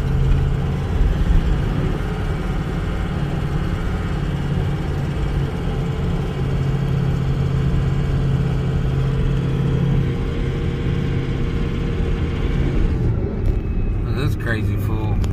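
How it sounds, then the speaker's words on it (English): A car drives through a small town, its engine and road noise forming a steady, continuous rumble from inside the vehicle while people talk over it throughout. "we're gonna let you drive through town with us"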